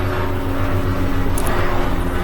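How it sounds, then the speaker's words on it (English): A helicopter passes by with a continuous low, throbbing rotor drone that stays steady and fairly loud throughout. "Helicopter passing by."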